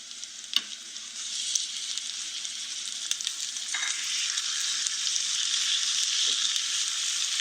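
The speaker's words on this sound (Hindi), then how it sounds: "कीमे को अच्छे से भून लेंगे ताकि रोल में डालते वक्त इसमें कच्चापन बाकी ना रहे" Minced meat (keema) fries in a pan with a loud, continuous hissing sizzle that builds slightly, broken by a few sharp clicks of a spatula. There is no talking.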